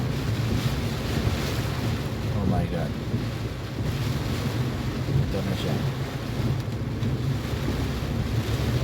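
Typhoon Odette's strong wind and heavy rain batter a vehicle in Lapu-Lapu City, with a constant dense roar of gusts and rain under brief excited talk.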